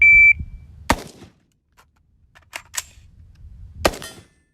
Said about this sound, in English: I'm just gonna do a couple shots and just time myself